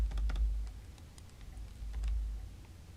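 A few quiet computer keyboard clicks tapped in quick succession, a Control B shortcut in FL Studio 12, over a low background hum, with no voices.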